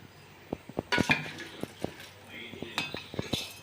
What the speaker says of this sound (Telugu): ముందుగా ఫ్రై చేసుకున్న ధనియాలు ఎండుమిరపకాయలు దాంట్లో వేసుకొని